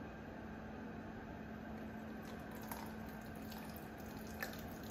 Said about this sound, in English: Carefully, very carefully, we are going to dump this just right into the strainer.